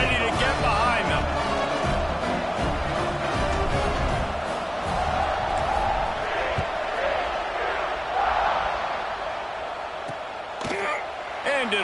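A stadium crowd roars through a college football kickoff with Baylor on the field, a broad, sustained wash of cheering from a distance beneath a commentator's steady talk.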